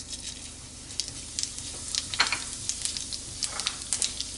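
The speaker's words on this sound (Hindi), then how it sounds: "अब हम इसमें जीरा डालेंगे।" Cumin seeds crackle in hot ghee in a wok for a garlic and spinach sabzi, a close, continuous sizzle broken by quick spitting pops that grow busier toward the end, with no voices.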